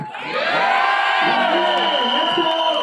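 Packed Mumbai theatre crowd at a film trailer launch cheers, whoops and whistles loudly in a sustained dense roar, with shrill whistles standing out over the noise throughout.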